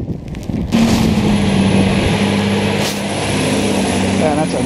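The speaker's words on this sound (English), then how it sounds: "Yeah, that's a nice garbage truck." Garbage truck passing on a Montreal street during a snowstorm, a loud continuous engine drone with a low steady hum and brief hissing bursts, close by, with people talking over it.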